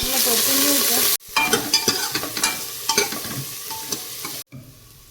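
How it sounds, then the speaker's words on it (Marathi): Onion sautéing in a pan for a Maharashtrian usal curry, with garlic and cumin already added: steady close sizzling broken by repeated scraping stirs of a spoon, cutting out briefly twice, no talk. "इथे कांदा चांगला परतून झालाय"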